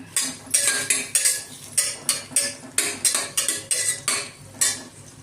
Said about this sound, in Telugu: ఉల్లిపాయ ముక్కలు పచ్చిమిరపకాయ ముక్కలు వేసేసి కొంచెం వేయిస్తాం